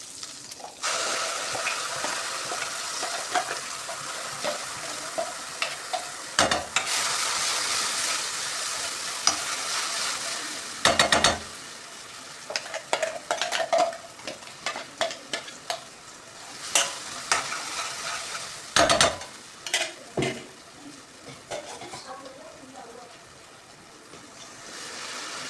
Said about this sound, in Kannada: ಅದು ಸ್ವಲ್ಪ ಫ್ರೈ ಆದಮೇಲೆ ರುಬ್ಕೊಂಡಿರೋ ಮಸಾಲೆ ಹಾಕ್ಕೊಳ್ಳಿ